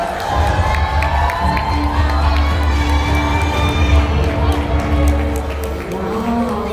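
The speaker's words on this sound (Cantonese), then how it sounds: "我哋掌聲歡迎我哋嘅新聞主任許思晴小姐" At a press event promoting a TV drama, a crowd cheers and shouts loudly and continuously to welcome a guest, with scattered claps and excited voices.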